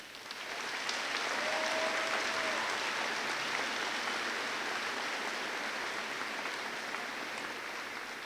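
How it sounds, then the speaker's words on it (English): Sustained audience applause at a high school graduation ceremony, a broad even wash of clapping swelling in after a second and holding steady, fairly distant in a large space. "one more round of applause, please."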